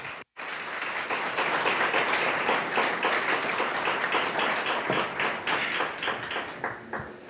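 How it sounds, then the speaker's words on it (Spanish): A church congregation claps along for about seven seconds in steady, dense applause, with a brief gap near the start; the clapping stays fairly loud and even throughout. "Denle un aplauso al Señor."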